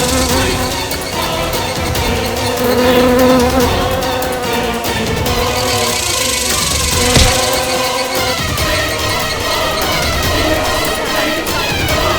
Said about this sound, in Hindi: ये मक्खी आपको कुछ नहीं करेगी।